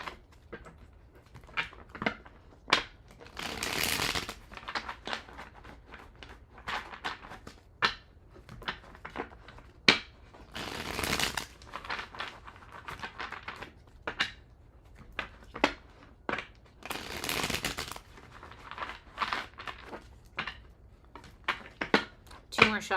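A deck of tarot cards is shuffled by hand in a few crisp riffling bursts, each lasting about a second, spaced among lighter taps and clicks of cards being handled close by.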